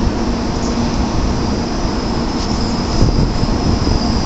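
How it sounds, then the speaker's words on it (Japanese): A Shinkansen Nozomi 89, an N700-series train bound for Hiroshima, departs Kyoto Station, a loud, steady rumble of wheels and running gear close by with a high, faint whine on top and no talk. "ただいま13番線から発車したこちらの電車、14時7分京都発"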